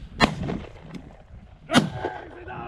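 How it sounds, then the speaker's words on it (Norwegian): Two sharp gunshots during a Norwegian grouse hunt outdoors, a loud crack followed after about a second and a half by a second one, each with a short rolling echo. "Det kommer et skudd, ja."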